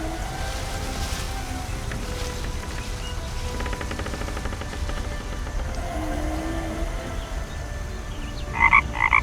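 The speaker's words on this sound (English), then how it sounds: "But the toad is still sound asleep." A sleeping toad in the video game The Night of the Rabbit croaks in low, steady snoring tones within a quiet woodland ambience, with faint bird-like chirps near the end.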